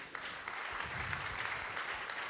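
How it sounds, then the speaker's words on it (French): An audience claps at the CIEL 2023 trophy ceremony at Salon Ciel. The applause is a steady, fairly quiet patter of many hands that carries on evenly throughout, with no voices over it. "Je crois qu'on peut les applaudir."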